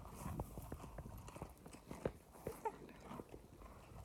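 Hooves clip-clop on the ground as a rider on a horse passes by, a faint, irregular run of soft thuds at moderate distance, heard alone against quiet outdoor air.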